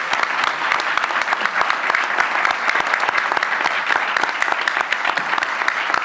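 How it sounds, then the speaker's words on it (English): Sustained applause from an audience honoring the 2017 Distinguished Alumni at a college event, dense steady clapping throughout with no speech. "one more round of applause for all of our 2017 Distinguished Alumni"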